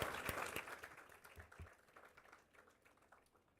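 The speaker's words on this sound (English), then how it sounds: "big, big round of applause" An audience at an invitational debate event applauds, a scattered round of clapping that starts moderately and thins out as it fades, heard from a distance at low volume.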